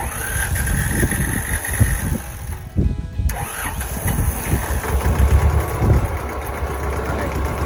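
An Iseki 1610 diesel mini tractor cranks, catches and settles into a running clatter, with a brief pause mid-way before the engine picks up again and keeps chugging loudly close by.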